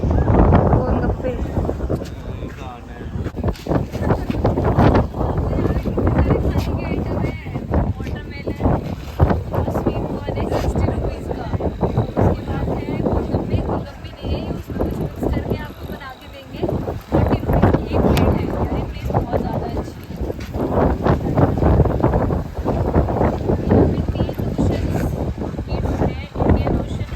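Strong, steady wind buffets the microphone at the seaside in Kanyakumari, a loud continuous roar that never lets up, with a voice talking underneath it.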